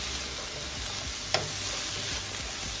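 Onions and mushrooms cook in a pan on the stove, making a quiet, steady sizzle with a few faint clinks and scrapes.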